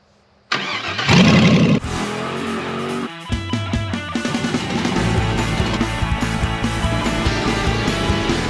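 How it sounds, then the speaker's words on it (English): A 1955 Chevy panel truck that had sat for over 20 years cranks briefly, then starts and runs with a loud, rough, uneven engine rumble and some revving, close to the microphone. "this week we're getting this friggin' panel truck moving under its own power"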